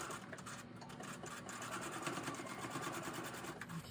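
A sewing machine stitches through fabric in a steady, fast, continuous whir at close range, with no break over the whole stretch.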